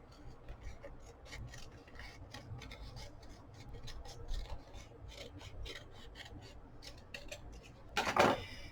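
Craft paper and cardstock scraps being trimmed with scissors, quiet repeated snipping and rasping cuts in a steady run, with a louder burst of crinkling paper near the end.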